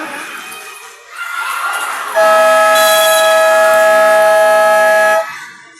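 A loud, sustained electronic buzzer blares steadily for about three seconds at the end of a basketball game's third quarter, preceded by crowd noise in a gym.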